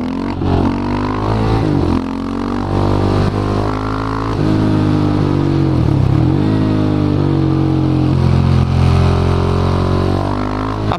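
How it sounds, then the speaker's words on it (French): A KTM Duke 690 single-cylinder motorcycle fitted with a full Arrow exhaust system accelerates hard, its loud, deep engine note rising and falling through gear changes, close and continuous throughout. "Ligne complète Arrow qui fait un super son."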